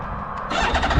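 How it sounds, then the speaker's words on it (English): An inline-six BMW K1600 motorcycle engine cranks and catches, settling into a smooth, high-pitched whir after a brief starter squeal, close by. "starting up the bike, you hear and feel the difference"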